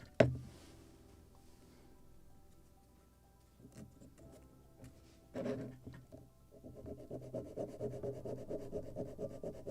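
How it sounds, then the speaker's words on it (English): Light hand sanding of wooden planking on a Midwest Muscongus Bay lobster smack model boat kit, a quiet steady rubbing and scratching that grows more rhythmic and slightly louder toward the end after a faint knock at the start. "Just slight sanding."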